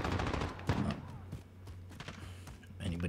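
In Call of Duty Modern Warfare, a P90 submachine gun fires several rapid bursts of crackling shots, loud and close, with short pauses and thuds between bursts and a voice talking over part of it.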